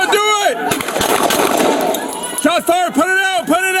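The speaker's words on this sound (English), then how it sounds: "Shots fired, put it out, put it out!" Police gunfire at a Los Angeles officer-involved shooting, a rapid volley of sharp shots dominating the first seconds, followed by a siren wailing up and down, with shouting voices throughout.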